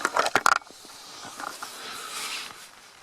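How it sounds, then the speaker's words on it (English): Light rain patters on a tent while wild camping in Scotland, a soft steady hiss after a few sharp handling clicks at the start. "But can you hear the rain?"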